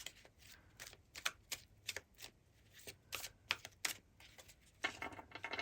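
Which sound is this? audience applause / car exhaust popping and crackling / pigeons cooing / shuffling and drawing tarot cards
shuffling and drawing tarot cards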